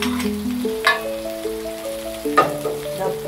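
Sausage for fried rice sizzles steadily in a pan, a soft crackling fry under a few louder stirring scrapes, with a melodic tone running through the background.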